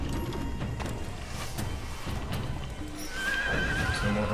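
Horse neighs and whinnies with clip-clop hoofbeats of galloping in Assassin's Creed, loud and close over a busy game soundscape.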